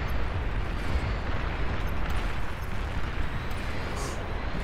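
Continuous rumbling barrage of artillery fire and explosions from a real-time strategy battle in BAR (Beyond All Reason), dense and steady with booms blending into a low roar throughout.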